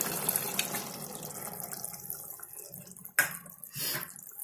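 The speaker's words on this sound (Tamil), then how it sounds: "இப்போ வந்து தேங்காய் பால் சேர்க்குறேன்" Coconut milk is poured into a fenugreek curry. It makes a steady, close liquid pour and splash that tapers off, followed by a sharp clink and a brief second splash.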